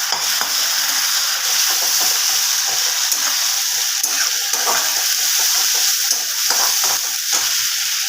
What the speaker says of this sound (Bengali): এবার আমি এই খুন্তি দিয়ে একটুখানি আদা রসুন বাটা এতটা মতন